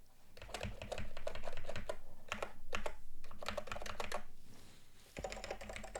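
Rapid bursts of key presses on the keyboard of a Peacock XT computer under mainboard repair, clear and close, in several clattering runs separated by brief pauses, with no speech.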